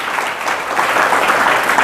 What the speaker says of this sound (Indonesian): Tepuk tangan untuk firman Tuhan.